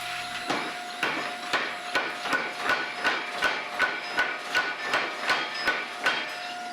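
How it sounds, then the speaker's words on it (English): Steady hand hammering on hot steel at a forge while making mosaic chef knives, about two blows a second, each a sharp ringing strike, close and moderately loud with no talking. "after running the forge and doing a little bit of this hand hammering"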